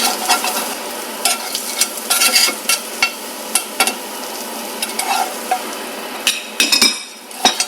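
Beef bacon (steakin') topped with cheese sizzles steadily in a pan, with frequent sharp clinks and scrapes of a utensil stirring against the metal throughout, and no voices.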